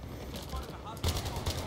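SCAR-L rifle fire in Battlefield 3, a short rapid burst of quiet, fairly distant shots heard alongside talking.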